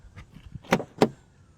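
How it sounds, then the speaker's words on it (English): Door of a BMW X5 SUV with soft-close, quiet mechanical clicks followed by two short firm thuds about a quarter second apart as the latch pulls shut, close up and otherwise quiet. "this car comes with soft close, like a S-Class"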